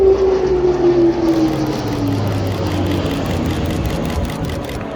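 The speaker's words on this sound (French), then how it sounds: "l'Airbus A400M venu d'Orléans, de l'armée de l'air française." An Airbus A400M military transport of the French Air Force flies a tactical display at an air show, its turboprop drone loud and steady, the pitch sliding lower as it passes by.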